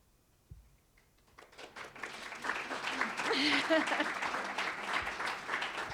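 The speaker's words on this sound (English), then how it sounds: "Thank you for the applause" An audience at a business outlook forum breaks into applause. A quiet room gradually fills with clapping that swells and then holds steady.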